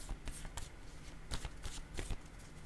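Playing cards are shuffled and drawn in quick, close, crisp riffling bursts and snaps, quiet overall, with a soft voice faintly in the background.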